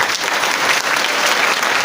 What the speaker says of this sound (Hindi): तो एक बार मैं चाहूंगा कि आप लोग ताली बजा के हमें जवाब दें।